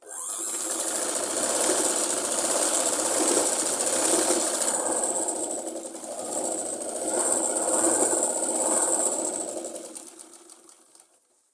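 A sewing machine double-stitches a folded fabric edge on a Punjabi suit salwar. It makes a loud, continuous whirring hum that eases off slightly in the middle, then runs on and fades to a stop.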